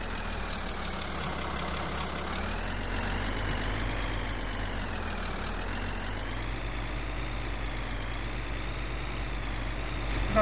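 The engine of a new farm tractor idles steadily and close by, a loud, even rumble with a faint whine on top that holds constant throughout, with no talking.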